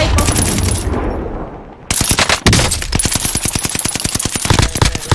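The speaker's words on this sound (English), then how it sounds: "Too many shots. A sniper would have dropped his ass." Rapid automatic gunfire in a video game, an assault rifle firing loud, close bursts of evenly spaced shots after a short quieter stretch.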